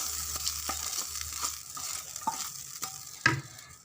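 Hot tempering with green chillies sizzles as it is stirred into rava pongal in a pan, a close, continuous crackling fry with occasional sharp scraping clinks of the spoon and no voices.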